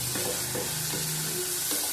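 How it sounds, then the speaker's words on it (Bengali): Green chillies, two split and two whole, sizzle in hot oil with a loud, continuous crackling fry heard close up for a couple of seconds, with no talking. "এই তেলের মধ্যে দিয়ে দিলাম,"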